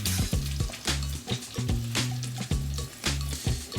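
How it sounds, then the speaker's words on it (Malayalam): Chopped onion sizzling in a hot pan with garlic and ginger for a Kerala tapioca and fish curry, a steady loud fry with repeated stirring scrapes and clinks at a regular rhythm, close up and with no talk. "അപ്പം നമുക്ക് സവാള ഇട്ട് കൊടുക്കാം."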